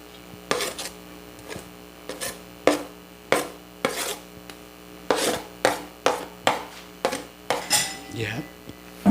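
Kangkong (water spinach) tossed in a bowl with a metal ladle: a dozen or so sharp clinks and scrapes of metal against the bowl, coming in quick, fairly regular strokes over a quiet background.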